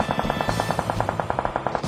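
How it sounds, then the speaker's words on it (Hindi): Rapid automatic gunfire in a video game rattles off in a fast, even burst of about fifteen close, loud shots. "ये लोग तो गोलियां चलानी रोक ही नहीं रहे।"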